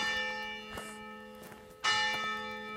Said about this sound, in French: ça c'est la cloche